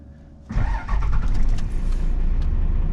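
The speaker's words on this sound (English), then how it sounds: "you can hear my fast fuel pump turn on when I turn the key on" A quiet fuel pump hum, then at about half a second a Cummins diesel engine in a square-body truck cranks briefly and catches, settling into a loud steady idle close by.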